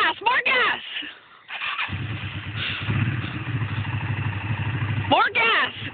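A motorcycle engine revs and labours uphill with a low, steady drone, while people call out instructions over it and short bursts of higher-pitched revving break in at the start and the end.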